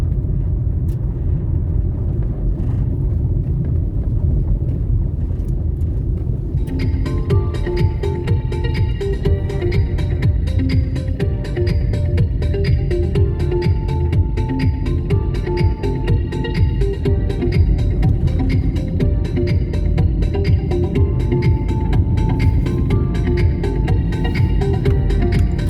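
Car driving along the road from the Palisadoes strip toward Bull Bay, Jamaica, a steady low engine and road rumble from inside the vehicle with faint higher whine joining in, continuous and without talk.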